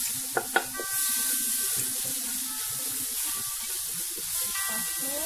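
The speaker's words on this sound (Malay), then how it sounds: "Tumis dia sampai lah dia naik bau dia." Chili paste made from chili powder sizzling steadily as it is stirred and sautéed in oil in a pan for fried glass noodles (suhun goreng), a continuous close frying hiss with a couple of sharp clinks near the start.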